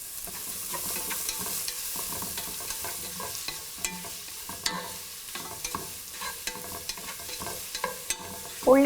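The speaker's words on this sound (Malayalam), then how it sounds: "ഉള്ളി സോഫ്റ്റായി ഒന്ന് വാടുന്നത് വരെ വഴറ്റുക" Small shallots, green chilies and curry leaves with salt sauté in a pan for shrimp theeyal, giving a steady sizzle with scraping stirs and scattered clinks throughout, close and moderately loud, with no talking.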